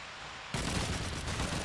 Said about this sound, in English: Oh, I hear a grease gun.